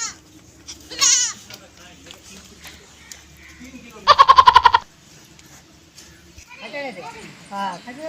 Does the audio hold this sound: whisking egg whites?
no